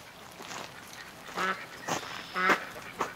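A duck quacks several times in short, nasal bursts, fairly close, with brief gaps between calls.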